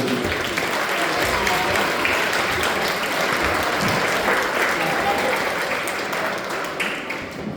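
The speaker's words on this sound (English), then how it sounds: "So boys, can you give a round of applause?" A room of young footballers and families at a U12 club end-of-season presentation gives a steady round of applause, dense continuous clapping, fairly loud and close, tapering slightly at the end.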